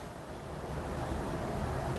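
Wind buffets a microphone in a steady, low rumbling roar that fills the short stretch, with no voices.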